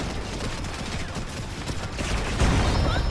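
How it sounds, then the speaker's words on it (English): Robot weapons in the Robocraft video game fire at the player, a continuous, dense barrage of close shots and impacts that swells slightly louder toward the end. "Yeah, the other shielded beast is shooting at me."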